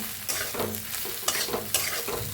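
Okra stir-fries in a pan with green chili, garlic and ground roasted peanuts, producing a close, steady sizzle broken by rhythmic scraping strokes of a spatula every half second or so, with no voices.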